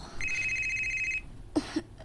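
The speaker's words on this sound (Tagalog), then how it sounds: "Ang akong cellphone." A cellphone ringtone rings steadily and clearly for about a second, then stops, followed by a couple of brief close thumps or bumps. No one speaks.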